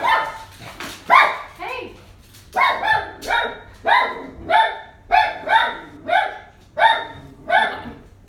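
Dog named Pete barks indoors in a run of about a dozen sharp, evenly spaced barks, loud and close, with a brief spoken word mixed in.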